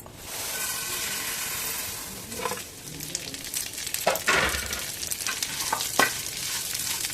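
Semiya vermicelli sizzles and hisses as it fries in ghee in a pan, with intermittent scraping stirs and clinks of a spoon over a steady frying hiss, close and fairly soft.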